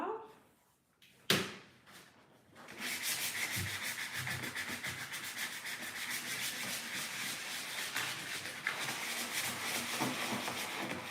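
Steady, close rasping of sandpaper worked over the rough edges of a wooden chest of drawers, preceded by a sharp knock and a brief pause before the continuous scratchy rubbing settles in.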